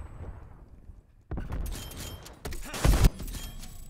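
Gunfire in a first-person shooter video game, Search and Destroy mode: two loud bursts of shots after a quiet moment, the second peaking sharply, with no talk over them.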